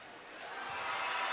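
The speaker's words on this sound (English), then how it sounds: "Big applause for her." Crowd applause in a high school girls' basketball gym as a player heads to the bench at the Abington Heights vs North Pocono pink game, a broad steady clapping wash that swells slightly toward the end.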